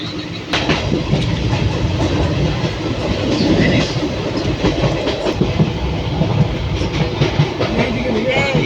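Steady rumble and rhythmic clickety-clack of a moving train heard from inside a carriage, loud and continuous throughout.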